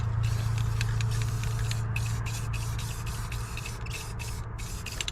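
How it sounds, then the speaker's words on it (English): Aerosol spray paint hissing onto a Ford Super Duty suspension part during a leveling kit install, a continuous close spray broken by a few short pauses, over a low hum. "Spray a little bit of paint on this."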